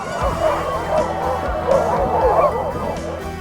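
Sled dogs in a team on a Fjällräven Polar winter expedition bark and yip continuously, close and loud, with some whimpering and background voices among the pack.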